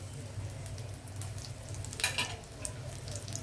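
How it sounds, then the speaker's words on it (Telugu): Crushed garlic frying in hot ghee gives a steady close sizzle and crackle, with a brief sharper burst of spitting partway through. "నెయ్యి వేడెక్కిన తర్వాత ముందుగా నేను చెదగొట్టి ఉంచాను వెల్లుల్లి"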